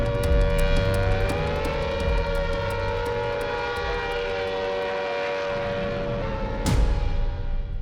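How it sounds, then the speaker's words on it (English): A civil defense air raid warning siren holds a steady, loud wailing tone for several seconds, then breaks off into a sharp burst near the end, with no voices over it. "a warning siren"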